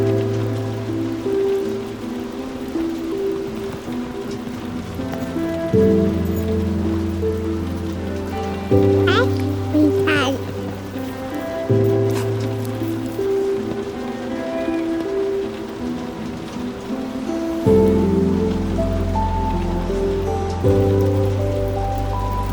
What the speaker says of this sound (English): we watched the rain fall